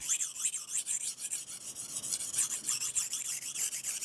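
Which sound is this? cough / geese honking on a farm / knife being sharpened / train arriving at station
knife being sharpened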